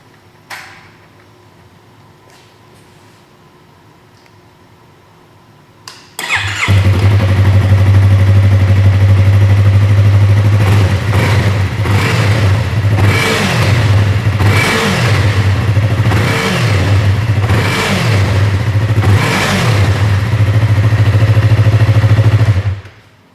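A Yamaha R3 sport motorcycle on its stock exhaust starts after a quiet stretch, settles into a loud steady idle, then gets several sharp throttle blips in a row before easing back to idle.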